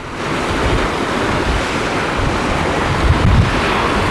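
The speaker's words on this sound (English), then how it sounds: "you hear the waves just kind of really starting to get rustled up" Steady roar of surf on Lake Huron with waves breaking continuously, a broad rushing wash swelling slightly louder near the end, with some wind buffeting the microphone.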